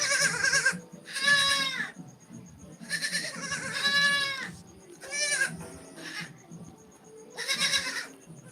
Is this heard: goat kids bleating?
yes